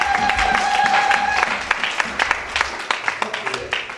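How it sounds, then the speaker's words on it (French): A church congregation applauds and cheers at a seminar on marriage, with steady clapping and voices rising together in a warm, continuous crowd wash that grows into sharper scattered claps. "Alors acclame pour Jésus."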